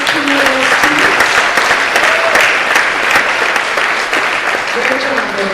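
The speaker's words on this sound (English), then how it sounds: "please give a collective round of applause for our 13 exceptional students." Loud, dense audience applause for thirteen students at a public speaking contest, continuous through the moment with a few voices audible beneath it.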